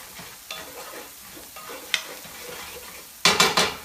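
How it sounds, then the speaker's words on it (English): Coconut milk going into a pan of vegetarian curry, giving a soft bubbling stir and sizzle with a few light clinks, then a louder burst of sizzling and scraping at the end. "So then I'm going to add this wonderful coconut milk over here."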